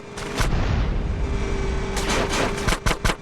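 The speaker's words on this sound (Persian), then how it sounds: "به دروازه شلیک کن." Gunfire hits a gate in the GTA San Andreas video game: loud sharp shots and booms over a rumbling background, a few early blasts, then a rapid cluster of close, punchy bursts near the end.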